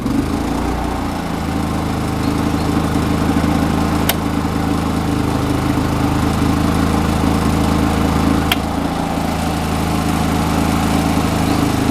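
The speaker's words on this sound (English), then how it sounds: "give the generator a chance to spool up" A small 3500-watt portable generator runs under load while powering household circuits through a transfer switch, a steady loud engine drone with strong low harmonic bands throughout and two faint sharp ticks, no voices.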